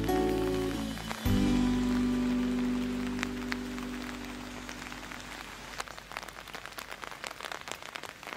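Steady rain patters on surfaces during a rainy-day forest hike in Kamikochi, Japan, a dense close hiss with scattered drop ticks; a brief low tone fades out early, then the rain continues alone with no talk.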